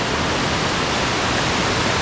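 Mouse Creek Falls, a waterfall in the Smoky Mountains, roars steadily as a dense, unbroken wash of falling water heard close up, with no voices.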